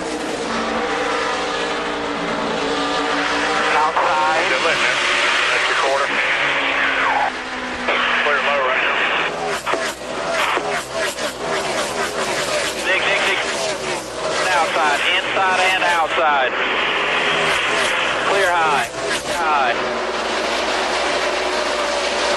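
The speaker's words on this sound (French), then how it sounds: "On adore ces plans serrés et le son de ces voitures" NASCAR Sprint Cup stock cars roar past in repeated sweeping passes at a 2008 race, engines whining and rising and falling, with a commentator's voice running over the noise.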